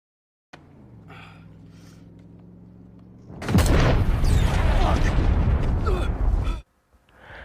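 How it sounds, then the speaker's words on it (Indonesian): A low hum holds steady, then a car explodes with a loud blast and a long roaring, crackling rumble that cuts off abruptly. "Tiba-tiba, mobil Cherry yang akan kembali ke markas meledak."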